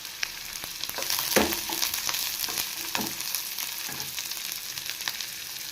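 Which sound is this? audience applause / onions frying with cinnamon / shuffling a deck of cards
onions frying with cinnamon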